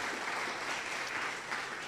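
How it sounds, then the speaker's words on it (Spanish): A church congregation gives steady applause at a service, the clapping even and continuous but fairly faint and distant, with no voices standing out. "Démosle un aplauso al Señor."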